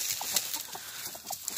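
A hen clucks softly several times in a short burst, close by over steady background hiss, with no talk.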